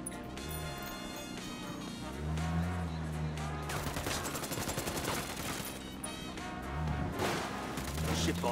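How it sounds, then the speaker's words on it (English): Gunfire in the video game Ghost Recon Wildlands, dense rapid automatic bursts and explosions in a sustained firefight, with game voices and music underneath. "I'm opening fire."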